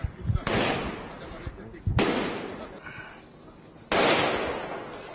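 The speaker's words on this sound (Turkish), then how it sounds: "Çatışma sesi var, patlama sesleri var." Gunfire and explosions during an armed clash in the Sur district of Diyarbakır: three sharp, loud blasts a couple of seconds apart, each followed by a long echoing rumble through the streets.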